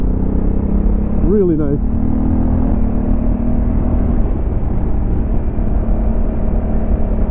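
A Honda CRF1100L Africa Twin DCT adventure motorcycle is ridden on rough mountain tarmac in Serra da Estrela, its engine droning steadily under heavy wind rush, with a brief rising rev and a rider speaking briefly.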